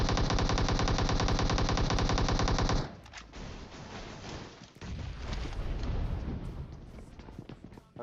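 Rapid automatic gunfire from an MK14 rifle in the video game PUBG, loud and continuous for about three seconds, then a noisy, rumbling stretch of scattered shots and impacts.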